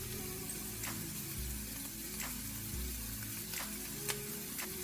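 Onions and garlic sautéing in a pan, a soft continuous sizzle with occasional faint scrapes of a utensil, fairly quiet and without voices.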